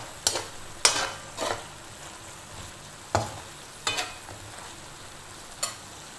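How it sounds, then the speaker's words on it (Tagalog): Beef cubes frying in a pan while being stirred: a steady soft sizzle runs underneath, broken by a series of sharp scraping stirs and clatters at irregular intervals. "Tapos ilalagay na rin natin yung ating beef cubes."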